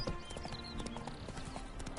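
Horse hooves clip-clopping in the video game The Witcher 3: Hearts of Stone, a steady, brisk rhythm of hoofbeats over soft ambient game sound.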